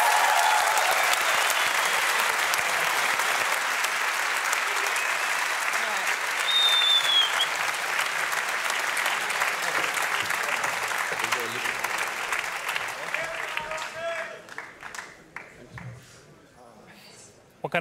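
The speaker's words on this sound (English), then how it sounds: "Can we get a round of applause for your TI-8 winners" A large audience applauds loudly and continuously for the Dota 2 International 2018 champions, the clapping slowly thinning out toward the end with a few voices and cheers mixed in.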